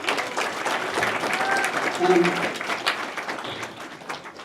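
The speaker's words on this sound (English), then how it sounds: "So give yourselves a round of applause for that" Convention panel audience applauding, a broad wash of clapping filling the hall at steady strength, with crowd voices and some talk mixed in underneath.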